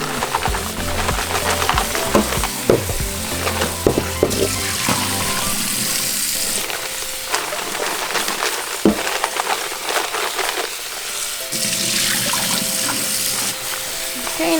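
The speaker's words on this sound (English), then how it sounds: "I'm just going to give my chiles a quick rinse" Dried chiles rinsed under running water in a kitchen sink while making caldo de espinazo: a steady, loud rush and splash of tap water with shifting clatter as the chiles are handled, continuous for the whole stretch.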